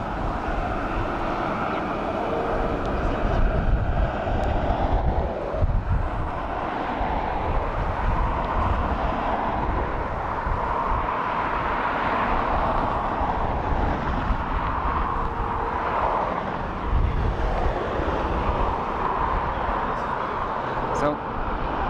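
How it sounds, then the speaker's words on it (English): A Ryanair Boeing 737 on approach into Dublin Airport after a short hop from Kerry, its steady broadband jet roar droning continuously and fairly loud at a moderate distance, with a voice talking over it throughout. "737 of Ryanair coming in from Kerry."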